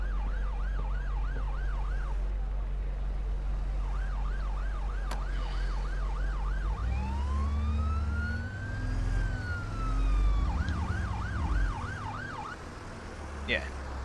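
Emergency vehicle sirens wail through the OMSI 2 London bus simulator, a wavering two-tone siren coming and going against a steady bus engine rumble, joined midway by a long rising-and-falling wail from a second siren.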